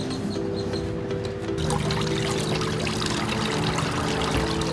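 Water trickles and splashes steadily down a small balcony waterfall water feature, a continuous bright wash with a low pump hum underneath.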